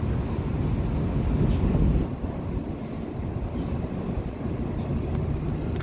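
An air-conditioned Thai third-class train carriage rumbles steadily along the rails, a dense low roar that eases slightly after the first couple of seconds and carries on evenly.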